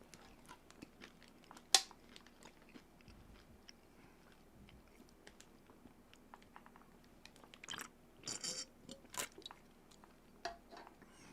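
Crunching and chewing on Doritos chips, with scattered crisp bites and a cluster of louder crunches late on, fairly close and quiet against low room noise.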